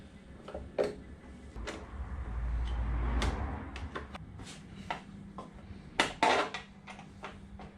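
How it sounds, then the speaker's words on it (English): Plastic side panel pried off a Yamaha MT07 motorcycle, a few sharp clicks and clunks scattered over a quiet background, with a louder cluster of snaps near the end. "we'll pull this side panel off"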